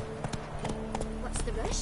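The horse Roach gallops in a PS4 video game, a quick run of rhythmic hoof clip-clops over ambient game sound, with a voice speaking faintly alongside.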